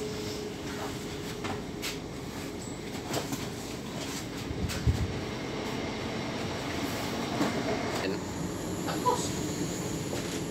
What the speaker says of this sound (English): I love these journeys on trains.